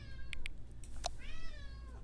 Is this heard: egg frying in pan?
no